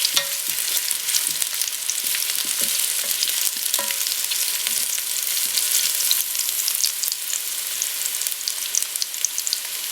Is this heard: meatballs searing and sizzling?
yes